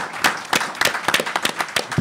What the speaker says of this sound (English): I think it deserves applause.